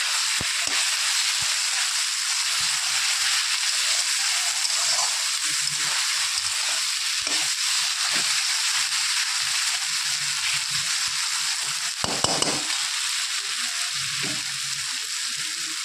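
Ginger garlic paste frying in oil for mutton kosha, a loud continuous sizzle with occasional stirring scrapes and a brief clatter near the end, no voices.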